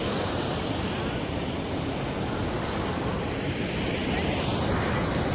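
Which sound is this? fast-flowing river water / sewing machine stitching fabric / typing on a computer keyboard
fast-flowing river water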